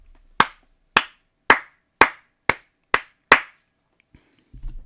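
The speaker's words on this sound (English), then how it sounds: "the loudest golf clap possible." Seven loud, sharp hand claps ring out close up at an even, unhurried pace, each a crisp smack with a short decay, followed by a brief low rumble.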